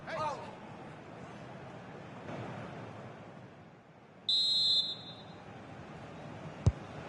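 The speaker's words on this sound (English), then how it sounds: "the referee's whistle indicates the beginning of this match" A referee's whistle blows to start a football match in the video game FC 26, one shrill held blast of about half a second over steady stadium crowd noise, followed by a sharp click.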